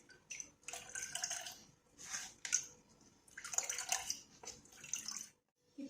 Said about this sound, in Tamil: நல்லா இப்படி வடிகட்டி எடுத்துடலாம்